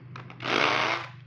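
A cordless 14.4V three-function drill runs in hammer mode, starting with two short bursts and then a loud, steady rattling roar that holds for nearly a second before easing off.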